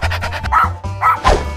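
A small dog barks several times in quick succession, close and fairly loud, with short gaps between the yaps.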